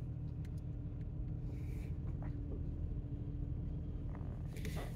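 A car drives along with a steady low engine rumble and road noise inside the cabin, with a few faint clicks and rustles over the drone.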